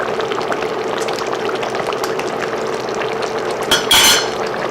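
Pork menudo with liver, sautéed potatoes and carrots being stirred in a pot, a steady wet scraping and sloshing throughout with a brief sharper clink of the spoon against the pot near the end; no talking.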